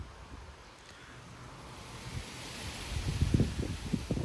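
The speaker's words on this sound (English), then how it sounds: "the wind's barely blowing in the front" Gusty wind under a shelf cloud in Frisco, Texas, with roughly 40 mph gusts: a steady broadband rush of wind that builds over the clip, with buffeting bursts hitting the microphone harder toward the end.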